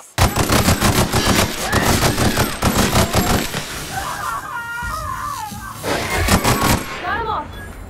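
A shock cannon fires in the video game The Outer Worlds: loud, rapid, sustained volleys of gunfire with warbling electronic whines in the brief gaps between bursts.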